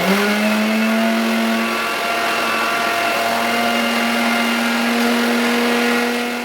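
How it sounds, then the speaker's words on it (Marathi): A kitchen mixer grinder whirs steadily and loudly while grinding a dry spice mixture, its motor holding a constant high-pitched drone throughout with no talking. "आता याला मी बारीक असं वाटून घेते मिक्सरला लावून"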